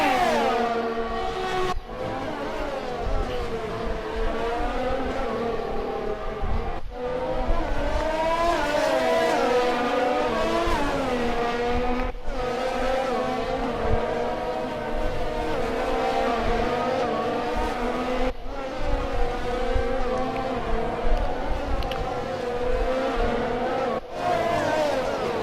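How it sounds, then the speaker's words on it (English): Formula 1 cars racing in the video game F1 2020 at the Russian Grand Prix: a steady high engine whine that rises and falls through gear changes, with sharp cuts at each shift, loud and continuous with no talk. "it's chasing Danny Kvyat in the McLaren"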